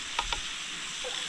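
Food being stirred in a pot at a campsite beside a waterfall, with a couple of soft utensil scrapes against a faint sizzle and steady background rush.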